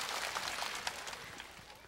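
Audience applause at a televised outdoor singing contest in Buk-gu, Busan, a steady wash of clapping from a crowd, moderately loud and continuous for the whole stretch, with no clear speech over it.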